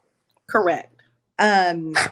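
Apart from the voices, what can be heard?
dog barking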